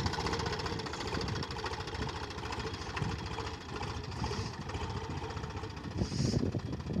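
An HMT 3522 tractor engine runs at a steady idle, a loud close diesel chugging with rapid knocking pulses throughout, briefly revving near the end.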